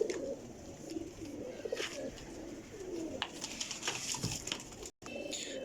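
Kale zakh pigeons in a pair, including a hen about to lay, give soft low cooing calls that repeat irregularly against faint background noise, quiet and close.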